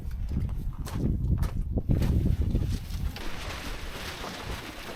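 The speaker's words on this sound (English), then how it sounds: "Wind's a bit blustery. It's coming from all angles today." Blustery, gusting wind around a boat, buffeting loudly and steadily with low rumbling bursts throughout.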